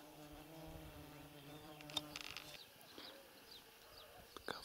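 Insects buzzing in a rural evening setting with goats nearby, a faint steady drone under scattered rustles and brief sharp clicks, fairly quiet and distant.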